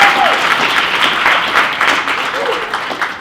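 An audience applauds King Dre at a street conversation event, a dense, steady wash of many hands clapping close by, sustained at an even level for the whole stretch.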